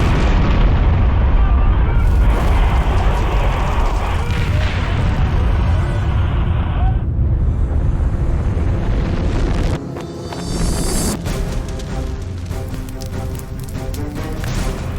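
Gasoline tankers exploding inside a burning fuel complex, deep rumbling blasts and roaring fire from a distance, with heavy low booms, crackling and a sudden shift partway through, voices mixed faintly under the din.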